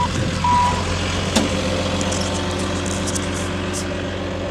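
A truck working in a pond dig site alongside a backhoe, its steady reversing beep repeating over an idling engine rumble, with a sharp knock partway through.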